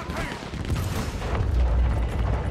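A grenade blast in the Red Dead Redemption 2 video game, a loud low rumbling boom with crackling debris that sustains and swells through the whole stretch, with no voices over it.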